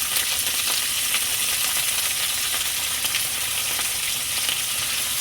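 Steady close-up sizzle of lamb chops frying in a pan as they are flipped, a loud unbroken hiss with light crackles and occasional soft taps throughout.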